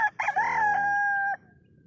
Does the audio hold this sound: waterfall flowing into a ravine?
no